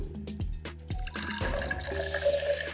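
Water is poured steadily into a glass for a color-changing flower experiment, a continuous close splashing and trickle with gurgling tones rising as the glass fills.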